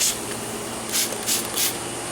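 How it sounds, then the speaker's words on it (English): Three short hissing bursts of a spray bottle misting pork butt on a smoker, close by, evenly spaced over a steady low background hum. "So we're getting a nice mist here."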